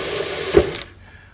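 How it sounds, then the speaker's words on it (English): A handheld power drill with a stainless steel bit bores into the spoiler of an R34 Skyline, a short whirring burst with a sharp bite midway before the motor cuts off into near silence. "with the drill and the stainless steel bit,"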